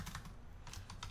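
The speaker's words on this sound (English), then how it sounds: "So I typed in iPhone 6" Brief, quiet patter of keys tapped on a computer keyboard, a few quick clustered strokes with short pauses between them.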